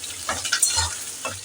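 Chopped onions sizzling in a pan over a low flame, with a few close scraping stirs breaking through the steady hiss over a short moment.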